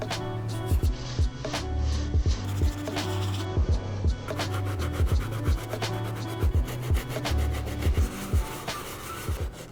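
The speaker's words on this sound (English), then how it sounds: "I went ahead and cleaned the entire sneaker again using our soft bristle brush and natural solution." Rhythmic back-and-forth scrubbing of a canvas Jordan 1 sneaker with a soft bristle brush and a natural cleaning solution, close and steady strokes repeating about twice a second throughout, with no talking.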